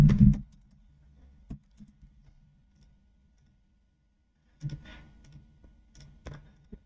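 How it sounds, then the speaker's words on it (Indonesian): Keystrokes on a computer keyboard come in two short bursts of soft clicks and taps, separated by a quiet gap with a few isolated clicks, close and faint in a quiet room. "Kita ketik dulu jawaban nomor 4."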